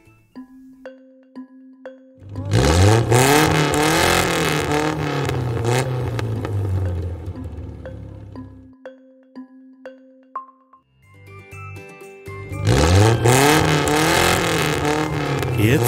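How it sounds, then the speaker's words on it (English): A race car engine revs hard in two loud bursts, rising and falling in pitch, separated by quieter stretches of bright musical tones. "It's a race car."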